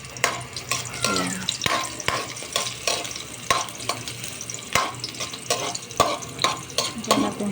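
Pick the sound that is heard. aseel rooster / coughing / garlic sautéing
garlic sautéing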